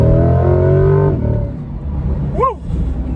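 A stock C8 Corvette engine roars loud and close under launch-control acceleration, its harmonics climbing for about a second before easing off, followed by a rising whoop of excitement.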